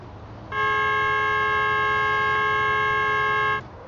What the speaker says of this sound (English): It's got a like hissy, crackly sound to it too. It's such a harsh honk noise.